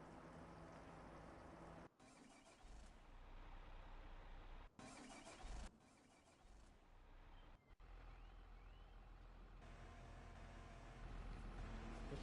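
A tractor engine in Farming Simulator 25 cranks and catches, then idles steadily, broken by a few abrupt cuts and restarts, loud and close with no talking.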